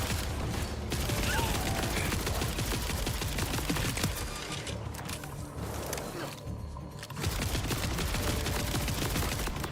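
Rapid gunfire in the video game Borderlands 4, dense bursts of shots and mechanical clatter filling nearly the whole stretch, loud and close with a couple of brief pauses.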